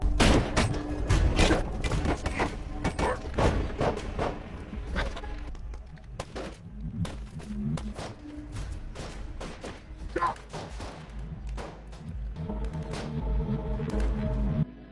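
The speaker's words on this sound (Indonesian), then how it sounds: "diserang oleh para anak buah Tracy hingga terjadi aksi tembak-tembakan." Bursts of gunfire and heavy thuds crackle through a chaotic shootout, with sharp shots clustered densely at first and continuing more sporadically over a constant low rumble.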